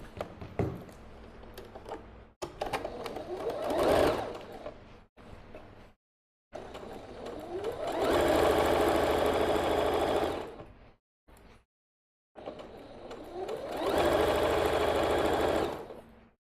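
A sewing machine stitches a pleated tunic in three bursts of fast, rhythmic whirring and needle chatter, close and loud, separated by short pauses of silence and light handling clicks.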